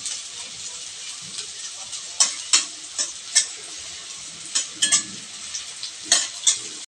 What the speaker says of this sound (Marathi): छान आता हा गोल्डन ब्राऊन होईपर्यंत परतून घ्यायचा